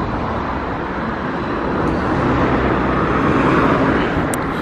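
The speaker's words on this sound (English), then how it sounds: "you probably didn't hear us over the traffic" Steady, loud road traffic roars close by without a break, a broad wash of passing car and engine noise that swells slightly toward the end.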